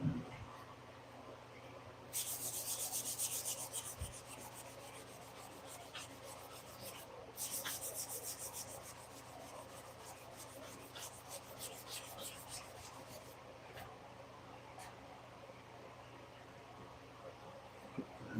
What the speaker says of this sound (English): I'll run that palm sander over the sides of these.